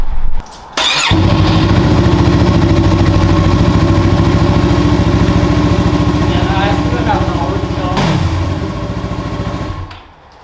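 A used motorcycle with roughly 3,400 miles starts, then idles loudly and steadily close by with slight revs before shutting off, while someone talks over it.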